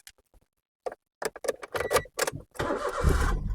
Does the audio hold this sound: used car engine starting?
yes